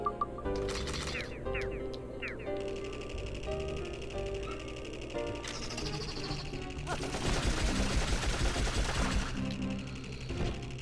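A magazine dump in the video game Dark Cloud: sustained bursts of rapid gunfire that build in loudness toward the end, mixed with game music and effects.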